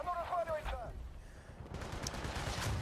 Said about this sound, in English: Oh, tank shooting you.